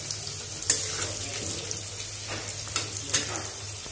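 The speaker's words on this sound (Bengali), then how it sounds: "আলু কেটে ভাজতে বসিয়ে দিয়েছি" Cut potatoes fry in a pan with a soft continuous sizzle, joined by a few clinks and scrapes of stirring and a faint background hum.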